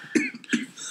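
Two short, harsh coughing bursts from a man choking on Chex Mix, close to the mic, the second following about a third of a second after the first, with a rough throaty texture.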